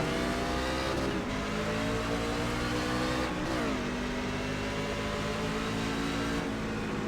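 NASCAR Craftsman Truck Series trucks race at Richmond Raceway in iRacing, a loud steady engine drone with rising revs and gear shifts, other trucks roaring alongside in a packed field.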